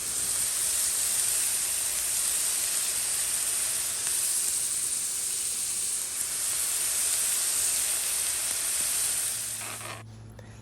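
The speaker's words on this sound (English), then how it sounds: "I'm just browning my meat in the pan with some onions and spices until it's nice and brown." Meat browning in a pan with onions and spices, a loud, steady frying sizzle with a bright hiss that holds for about ten seconds before dropping away at the end, no talk.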